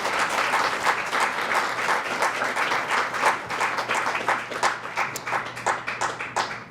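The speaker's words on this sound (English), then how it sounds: "let's give her a hand clap." An audience at the Meadville Dr. Martin Luther King, Jr. Scholarship Reception claps for a scholarship recipient, with dense, lively applause from a roomful of people that grows more uneven and thins toward the end.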